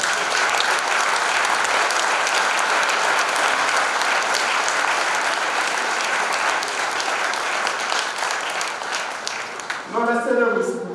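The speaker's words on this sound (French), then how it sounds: "je vous prie de les applaudir fort." A church congregation at a Mass gives loud, sustained applause that fills the space as a dense wash of clapping, easing off near the end as a voice begins speaking.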